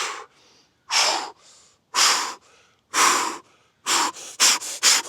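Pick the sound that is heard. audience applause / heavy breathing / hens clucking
heavy breathing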